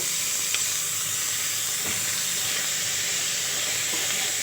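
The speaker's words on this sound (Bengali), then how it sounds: "একসাথে মিশিয়ে কিছুক্ষণ আমি খুব ভালো করে ভেজে নেব" Peas tossed into a pan with already-fried onion and garlic give off a steady, close sizzle and hiss that runs evenly throughout, with faint stirring clicks and no talking.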